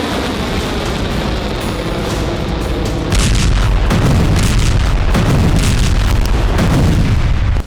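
Booming launch roar of an Iranian hypersonic missile, a loud continuous rumble that swells and grows even louder partway through, with crackling bursts over a heavy low-end blast, no voices.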